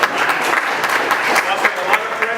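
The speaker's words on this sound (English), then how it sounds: "I'll give them a round of applause for being here." A crowd at a congressional candidate debate in Cherrydale gives a short, loud burst of clapping for the candidate's in-laws, with a few louder individual claps standing out.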